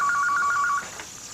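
A telephone rings in a home with a rapid, warbling electronic trill that stops after a short burst, leaving quiet room tone behind.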